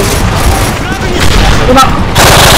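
Dual guns firing in Call of Duty MW3 multiplayer, a dense, loud burst of rapid gunfire with booms, alone and continuous.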